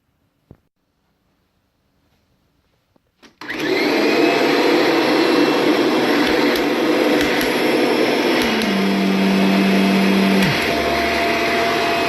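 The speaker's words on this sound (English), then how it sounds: "we're just going to pre-vacuum the entire place using this vacuum cleaner here" After a couple of faint knocks, a vacuum cleaner switches on and roars steadily and loudly over carpet, its pitch shifting briefly as it moves over the floor.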